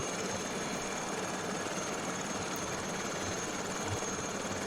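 Steady engine and rotor drone of an Aérospatiale SA315B Lama helicopter in Microsoft Flight Simulator 2020, a constant broadband whine and rumble at even loudness throughout with no voices.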